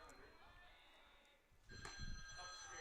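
A telephone bell rings in bursts, faint and somewhat distant, during a Region 2 high school baseball tournament broadcast, with a voice talking over it.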